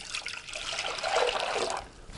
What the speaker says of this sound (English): this is my vessel for vinegar. I'm gonna put a little in here